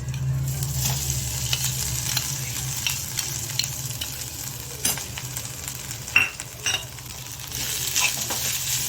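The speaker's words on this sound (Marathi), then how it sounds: "हे खोबरं व्यवस्थित आपल्याला परतवून घ्यायचं आहे।" Grated coconut sizzles as it is stirred and sautéed in a pan with roasted dry fruits, a steady close frying hiss broken by spatula scrapes and light clinks, with no talking.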